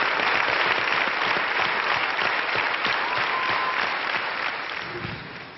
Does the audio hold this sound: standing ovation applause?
yes